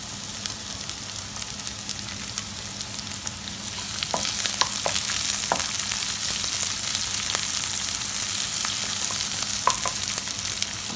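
Spices, garlic and onion fry in oil, with a continuous close sizzle growing louder midway and dotted with sharp spluttering pops and crackles, alone without any voices.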